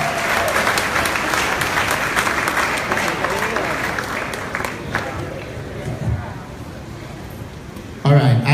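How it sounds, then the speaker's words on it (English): Audience applause at a Caribbean comedy show, a steady wash of clapping from a sizeable crowd with some cheering, tapering off after about six seconds before a burst of noise at the end. "let me get another round of applause"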